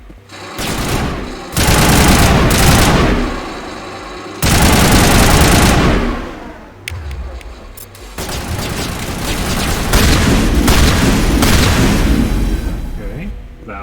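Video game gunfire comes in long, dense, loud bursts of rapid shots, with brief pauses between volleys and booming impacts, while a voice talks over parts of it.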